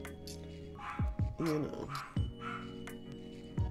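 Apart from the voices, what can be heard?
dog barking in another room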